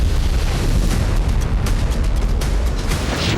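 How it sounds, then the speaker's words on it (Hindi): Heavy low-frequency rumble from a large blast in Tartus, Syria, captured from afar, steady and booming throughout with faint crackles on top and no one speaking. "देखिए इस धमाके की अलग अलग एंगल से रिकॉर्ड की गई तस्वीरों में विशालकाय मशरूम क्लाउड नजर आ रहा है।"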